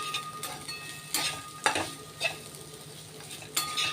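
Okra fry with garam masala is stirred in a pan, soft sizzling under a few scattered spatula scrapes and clinks against the metal.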